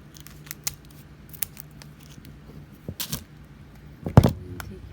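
Scissors snip the corner off a small packet of diamond painting drills, a few quick, close cuts with faint rustling of the packet and a sharper crinkle near the end.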